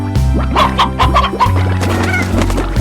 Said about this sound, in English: That is the chickens, that's sure.